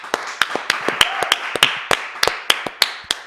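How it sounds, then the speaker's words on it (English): A small group claps in an uneven round after a Game of Thrones review, the sharp claps arriving in irregular bursts, close and fairly loud, with no talking. "let's have a round of applause for that"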